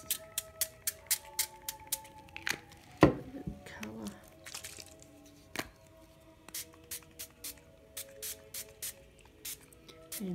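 Coloured ink sprays hiss onto an ink-pad printed craft surface in short, sharp, repeated bursts with a steady rhythm, close up, with a clatter midway.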